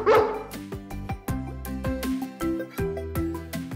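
A dog barks a few times near the start over bright, bouncy background music with a steady beat.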